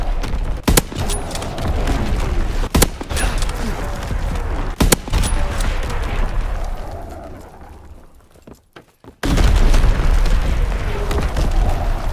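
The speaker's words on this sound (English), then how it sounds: "Firing battery one" Artillery battery firing in Call of Duty: WWII, heavy booms at regular intervals over a continuous rumble of battle, fading nearly to silence before a loud blast resumes the din.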